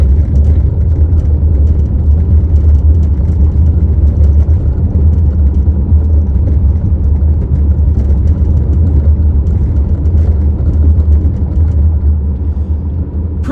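Interior road noise from a 2017 Buick Regal driving over a bumpy stretch, a loud steady low rumble of tyres and suspension with faint thumps, no voices.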